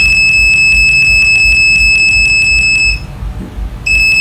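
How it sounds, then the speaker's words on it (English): Rapid, loud electronic beeping from a multimeter continuity test detecting a short on a laptop motherboard, repeating in a steady stream, pausing briefly for under a second, then resuming. "You can hear the multimeter beeping, so you have a short."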